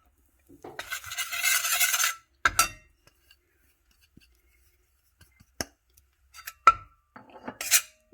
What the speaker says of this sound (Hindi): अब हम बेसन जो मैंने लिया है 2 चम्मच, वो मैं इसमें सेकूंगी